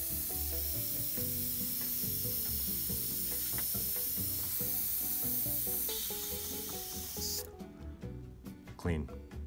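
An airbrush loaded with acrylic thinner sprays with its MAC valve wide open, producing a strong, continuous close-up hiss for about seven seconds that then cuts off and leaves near silence.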